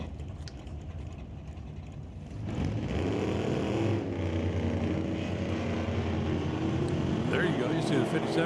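Big-block drag race cars at an NHRA Super Street race launch and charge down the strip, a loud engine roar swelling after a quieter start and holding steady at a distance, with an announcer talking over it.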